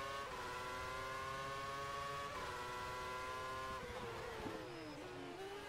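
A racing car engine in a video game racing league holds a steady, loud high-rev whine, then its pitch drops and shifts near the end, heard alone and close up.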